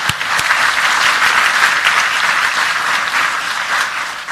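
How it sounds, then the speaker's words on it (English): A large audience applauds steadily and loudly for New York City Mayor Bill de Blasio at a poverty discussion event, a dense, even wash of clapping that fills the whole stretch without talk over it. "So let's give him a round of applause too."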